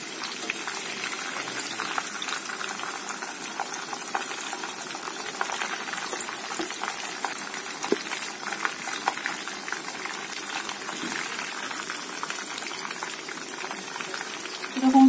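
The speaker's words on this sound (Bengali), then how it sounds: "চিকেনটা আমার ভাজা হয়ে গেছে" Chicken pieces frying in oil, a continuous bubbling sizzle with scattered pops and crackles, steady and moderately loud throughout, with no voice.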